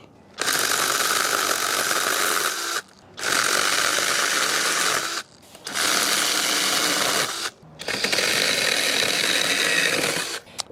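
A mini chainsaw cuts through a storm-damaged branch about two inches thick in four loud, buzzing runs of a couple of seconds each, broken by brief pauses.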